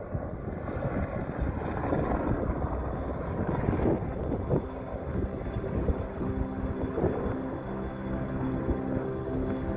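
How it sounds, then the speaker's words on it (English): A helicopter flies over the Aran mountains in Snowdonia, its steady rotor and engine roar filling the scene for about ten seconds amid gusting wind noise on the microphone. "That chopper is heading right over the top of Aran Fawddwy."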